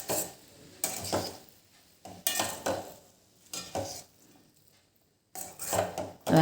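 A spoon stirs green pigeon pea poha with potatoes in a pan on the stove, making several scraping, rustling strokes against the pan in bursts with short pauses, close and moderately loud, with no speech.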